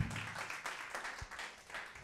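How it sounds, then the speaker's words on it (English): Clapping from the audience at a youth dance fundraising showcase comes in uneven bursts, fairly close and moderately loud, rising and easing rather than holding steady. "Yes, clap it up."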